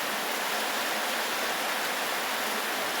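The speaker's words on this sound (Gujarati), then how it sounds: "સારો જ પડે છે વરસાદ." Heavy rain pours steadily on a farm field, a dense, even hiss with no pauses and no voices.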